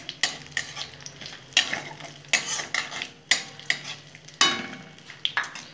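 Cinnamon, cloves and cardamom fry in hot oil in a pan, giving a crackling sizzle broken by repeated stirring scrapes and light clinks of utensils against the pot, close up and with no talking.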